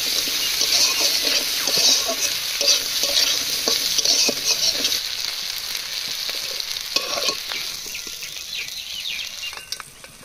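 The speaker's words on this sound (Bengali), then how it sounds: "কাঁকড়াগুলো দেখুন, কত সুন্দর করে লাল লাল করে ভেজে দিয়েছি।" Loud sizzling of crabs frying in a pan with onion, garlic and chili, with stirring scrapes and crackles throughout, the sizzle fading somewhat toward the end.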